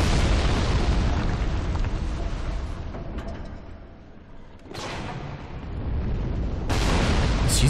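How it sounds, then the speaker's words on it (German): Ballista shots exploding in Dark Souls 3, heavy booming blasts that rumble loudly, easing into a quieter lull before two more sharp, loud impacts burst in toward the end. "Was schießen die denn da oben?"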